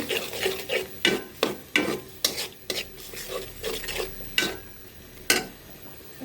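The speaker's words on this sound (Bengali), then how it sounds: "এখন নেড়ে চেড়ে মিক্স করে নিচ্ছি" A spoon stirs and mixes food in a cooking pot in a home kitchen, a run of close, scraping strokes in an uneven rhythm, each sharp scrape standing out against a quiet background.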